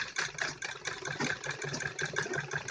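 A sewing machine runs steadily up close, stitching a seam down the middle of net cloth for a ladies' suit. The mechanical whir and rattle is continuous, with no voices.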